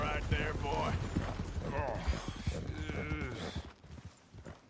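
Hooves of a horse in a Wild West–style video game clip-clop in a steady walking rhythm, with creaks and mechanical clatter around them and game voices talking over parts of it.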